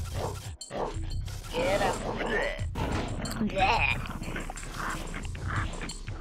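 A dog barks and yips in short bursts in a video game set in a meat company, heard under a player's ongoing talk and game sounds.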